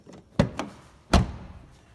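Doors on a 2007 BMW 328i, just repaired after side-swipe damage, are shut: two solid close thunks sound about three quarters of a second apart, with a faint lighter knock just after the first.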